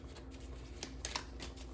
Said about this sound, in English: I like for the cards to fall, so that's why I'm shuffling.